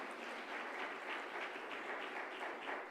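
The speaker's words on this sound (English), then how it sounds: "Yes, a round of applause would be lovely." An audience at the ET Women's Forum 2018 gives a speaker a steady round of applause, heard faint and distant as an even wash of many hands clapping.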